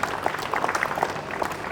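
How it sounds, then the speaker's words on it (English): Audience applause at the closing ceremony of a school cricket tournament, a brief patter of clapping heard fairly faint and steady. "So big round of applause to everyone involved in this tournament."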